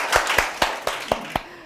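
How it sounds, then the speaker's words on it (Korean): Audience applause at a writing lecture, actually a handful of sharp, distinct claps, about six loud strikes spaced evenly and close by, with no speech. "박수가 먼저 터져 나왔습니다"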